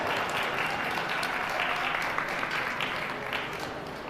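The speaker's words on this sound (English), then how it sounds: "Please give them both a big round of applause." Steady applause from an audience at a breeding goat showmanship event, a dense wash of clapping sustained throughout at a moderate distance.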